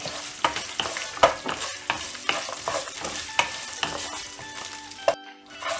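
Grated coconut and tamarind fry in oil for a coriander thovaiyal while a spoon scrapes the pan in sharp, regular strokes over a continuous close sizzle.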